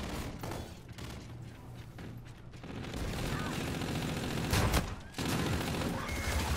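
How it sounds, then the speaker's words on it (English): Shotgun fire in Call of Duty Infinite Warfare during a gun game match, heard as several loud blasts and bursts of in-game combat noise. A voice talks over parts of the gunfire. "this shotgun is so bad"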